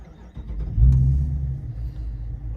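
A Dodge Challenger R/T special edition engine fires up with a deep low rumble that swells after a brief crank, then settles into a steady, close idle with no voices.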